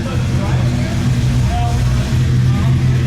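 Steady low rumble of engines and crowd murmur at an outdoor live car show, constant and fairly loud with indistinct background voices.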